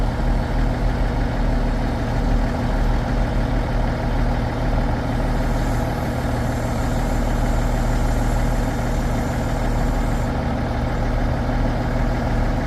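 A log hauling truck sits idling, its heavy diesel engine giving a steady, loud low rumble with constant throbbing that holds unchanged from start to finish, no voices over it.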